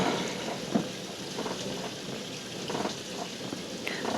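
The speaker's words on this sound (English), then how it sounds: "Rain, oh rain." Steady rain falls through the night, a soft continuous patter with a few louder drops and faint rumbles mixed in, heard alone with no voices.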